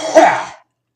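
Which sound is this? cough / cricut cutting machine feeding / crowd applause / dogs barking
cough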